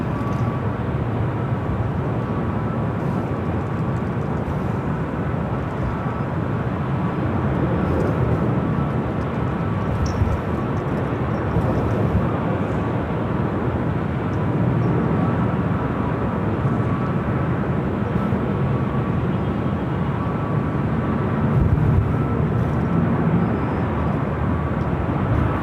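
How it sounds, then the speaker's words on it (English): Jet airplane taking off from the south side at Los Angeles LAX airport, a loud sustained broadband roar that swells and rumbles steadily with no talking. "That was a takeoff from the south side, by the way."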